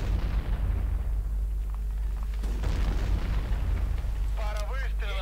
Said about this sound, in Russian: Пара выстрелов. Еще одно попадание,